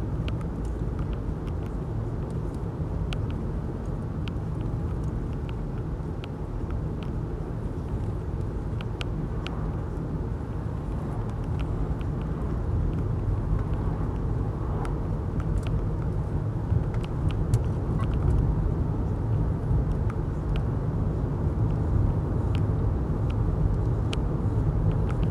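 Interior road noise of a Jaguar XJ8 Sovereign 4.0 long-wheelbase car on the move: a steady low engine and tyre rumble with faint ticks and rattles, even and moderately quiet throughout, with no speech.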